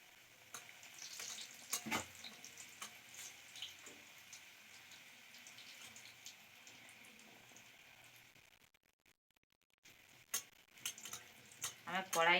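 Pea kachori frying in hot oil in a small wok, a steady soft sizzle with occasional louder bubbling bursts, briefly dropping out before resuming with crackles.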